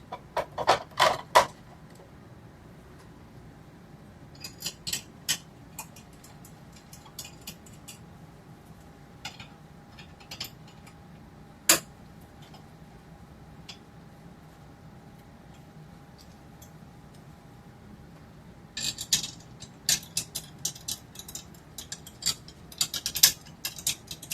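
Three screws on a vacuum furnace are tightened by hand until snug, giving sparse close-up mechanical clicks and short ratcheting bursts, busiest at the start and the end, over a quiet low hum.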